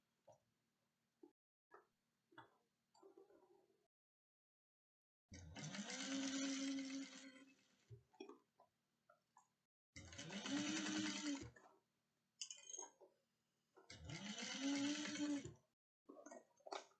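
A sewing machine stitches a bucket bag seam at 3/8 inch, with three sustained whirring runs of rapid needle stitching and reverse back-stitching, separated by quiet gaps with small clicks and fabric handling, close but soft.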